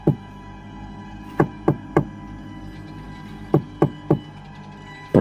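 Knocking on a house door: knuckle raps in short groups, a single knock, then two, then three, then two more, fairly close and crisp over a steady low background hum.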